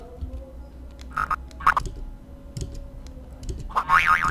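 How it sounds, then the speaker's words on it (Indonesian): Cartoon boing sound effects added in animation software: a few short springy bounces, the last one a longer wobbling boing, with faint clicks between them. "di sini ada bouncing ya suaranya"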